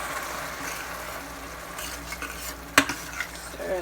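Lamb bolognese with vegetables and red wine stirred in a pan, a gentle simmering sizzle under scraping spoon strokes and one sharp metallic clank, close with no talk.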